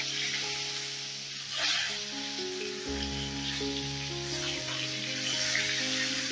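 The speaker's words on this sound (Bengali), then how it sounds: "এবারে ওই তেলেই আমি পটলগুলো ভেজে নেব" Slices of pointed gourd (potol) fry in hot oil already used for potatoes, giving a continuous bright sizzle throughout, with soft sustained musical tones underneath.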